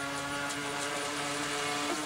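Remote-controlled boat motor running on a lake, a continuous loud buzzing whine with a steady pitch, close by and sustained through the whole moment, with no talk.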